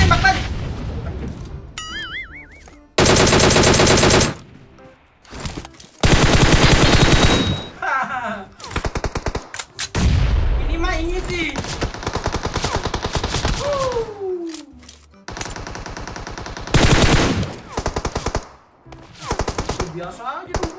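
Bursts of automatic gunfire in a shooting video game, several loud sustained volleys separated by gaps, with voices talking in between.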